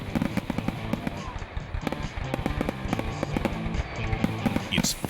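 Fireworks from a radio advertisement for Fireworks Friday at a River Bandits baseball game: dense, continuous crackling and popping bursts fill the stretch, loud and busy, with no break in the barrage.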